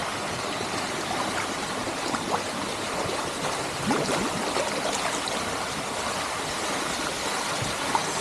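Water flows down into an outdoor bathing pool at a Sri Lankan scenic spot, a continuous close rushing splash with steady broadband roar and no clear voices.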